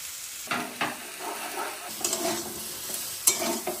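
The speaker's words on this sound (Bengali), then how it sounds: "সব কিছুকে একটু ভালো করে ভেজে নেব" Spices, ginger paste and tomato frying in a pan, a steady sizzle broken by repeated scraping strokes of a spoon stirring the mixture, close and clear with no talk.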